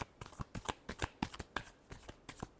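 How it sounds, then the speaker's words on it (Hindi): Tarot cards are shuffled in a quick series of crisp riffling bursts, close and fairly quiet, with irregular short clicks and flutters and no talking. "last shuffle"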